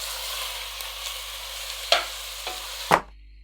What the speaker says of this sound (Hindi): 2 से 3 मिनट हमने कीमे को फ्राई कर लिया।